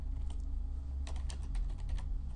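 Typing on a computer keyboard, a quick cluster of close, crisp key clicks, loudest in a burst in the second half, over a steady low hum and no speech.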